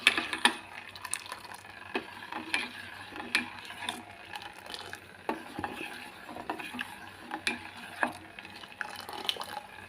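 Saffron and cardamom powder are stirred into sugar syrup for wheat-flour gulab jamun. A spoon scrapes and taps against the pot in a steady rhythm of light clicks over a soft bubbling background.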